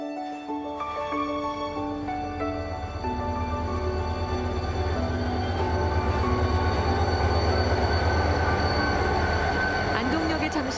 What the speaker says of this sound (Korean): 마지막 열차가 들어옵니다.